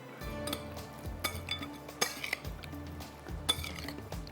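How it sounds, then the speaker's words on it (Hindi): A spoon stirs a soy sauce and vinegar marinade in a dish for chapli burgers, giving irregular clinks and scrapes against the dish at moderate, close range with no talking. "इसको हम करते हैं मिक्स"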